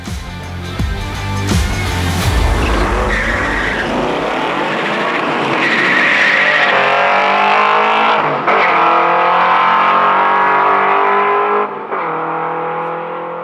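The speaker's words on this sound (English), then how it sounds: "Hear that little squeak going into 4? It spun a lot in second." A race car engine revs hard and climbs through the gears, with a brief tire squeal shifting into fourth after wheelspin in second, loud and close before fading slightly.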